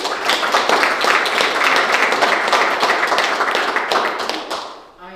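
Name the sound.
audience applause at a school board meeting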